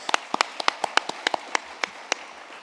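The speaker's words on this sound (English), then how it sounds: "Let's give them a round of applause." Scattered claps from an audience thanking arts sponsors at an evening performance competition, a dozen sharp separate hand claps at an irregular pace, fairly close and thin rather than a full ovation.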